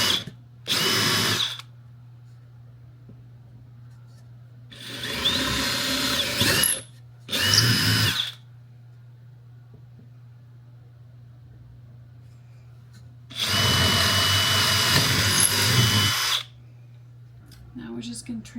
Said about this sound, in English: now we get to rock the drill again